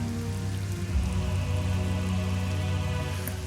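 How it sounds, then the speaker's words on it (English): Heavy downpour drumming steadily and densely on surfaces nearby, an even, unbroken roar of rain with no pauses. "Well, it's downpouring now, still."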